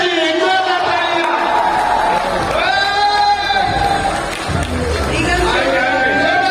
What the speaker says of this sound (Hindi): एक और तालियां